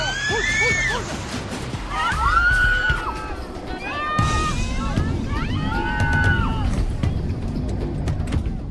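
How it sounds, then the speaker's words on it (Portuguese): Panicked people scream and shout in alarm and despair during a boat accident on open water, voices rising and overlapping in repeated cries, with a steady rumble of water and engines beneath. "os gritos de alerta dão lugar aos gritos de desespero."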